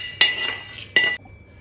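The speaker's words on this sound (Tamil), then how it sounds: "இதையும் அந்த தட்டிலே கொட்டிக்கலாம்." Roasted spices for kariveppilai podi are tipped onto a plate, making two brief, bright clinks of a utensil against the dish, then quiet.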